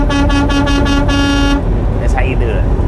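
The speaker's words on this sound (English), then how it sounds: "That's how you get the air horn right there." A loud truck air horn blasts in several rapid pulses, then cuts off, followed by a brief electronic chirp over background noise.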